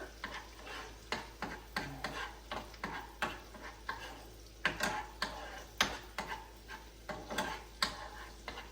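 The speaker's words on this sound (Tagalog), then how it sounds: "Maluto pa ng konti yung bawang." Garlic sizzling in a pan for sardine pasta, with a spatula stirring and tapping in a steady repeated rhythm over a continuous soft frying hiss, close and fairly quiet.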